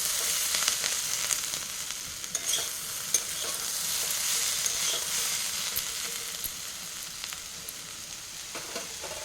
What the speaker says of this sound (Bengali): এদিকে আলুটা ভেজে নিচ্ছি